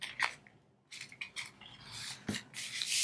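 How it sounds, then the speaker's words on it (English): Scissors snip off a small jagged scrap at the edge of a paper bag journal, a few close, quiet cuts and rustles spaced through a near-silent stretch. "I see a little bit sticking out right here, so I'm gonna just cut that off"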